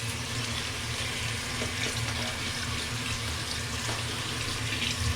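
Tap water runs steadily into a sink while a dirty air conditioner filter is rinsed, making a loud, continuous splashing rush from start to finish.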